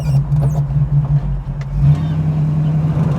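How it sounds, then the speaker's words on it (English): A 1970 Ford Mustang Boss-style convertible's V8 engine hums steadily at low pitch from inside the moving car, with a brief surge partway through and constant road rumble. "This car's running good. Plenty of power. Real smooth drivetrain."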